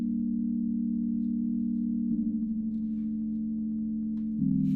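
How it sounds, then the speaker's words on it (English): Sky Key synth patch in Ableton with no tremolo, a steady sustained low chord that holds, shifts once midway and changes again near the end, smooth and unwavering. "Without the tremolo, this is what the Sky Key sounds like."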